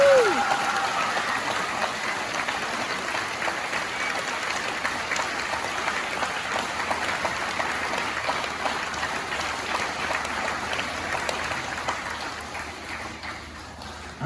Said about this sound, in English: If we could give them a round of applause and thank you.